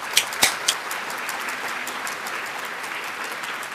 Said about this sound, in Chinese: 请让我们用热烈的掌声欢迎于先生。